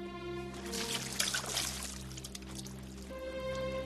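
Water poured out in a steady stream for several seconds, a broad splashing wash that swells in the middle and tapers near the end, with a low hum and tonal music underneath.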